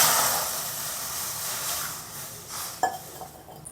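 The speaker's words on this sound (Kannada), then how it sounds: "ಇದಕ್ಕೆ ಹಾಲು ಹಾಕ್ತಾಯಿದ್ದೀನಿ" Milk is poured into a hot pan for vermicelli kheer, a steady hissing sizzle that swells at first and gradually fades, with a brief utensil clink near the end and no talking.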